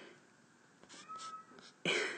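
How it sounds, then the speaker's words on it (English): A cat meows indoors during a quiet lesson, a few short faint cries followed by one louder, sharper meow near the end, with no voices over it. "There's a cat who really wants to be a part of this math lesson."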